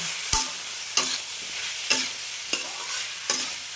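Vegetables and spices being stirred in a sizzling pan, with five sharp spatula scrapes at roughly even intervals over a steady frying hiss, close and alone.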